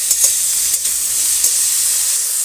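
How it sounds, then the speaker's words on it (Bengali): Potatoes and cauliflower fry together in a pan with a little turmeric and salt, giving a steady, close sizzle with a few brief stirring scrapes and no voices. "এটাকে ভালো করে ভেজে নেব আলু আর ফুলকপিগুলো একসঙ্গে"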